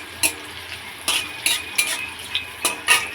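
Food frying in a wok, with a spoon or spatula stirring it in a series of short scraping clinks over a soft, steady sizzle, close and fairly quiet.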